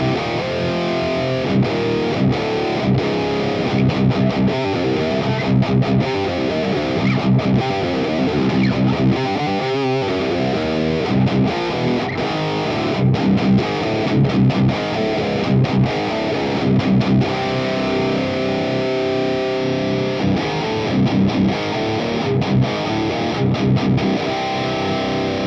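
A Carvin CT6 California carved-top electric guitar with Fishman Fluence Modern pickups, tuned to drop C, played through heavy distortion in a long run of chunky riffs with rhythmic palm-muted chugs and short gaps, loud and up front.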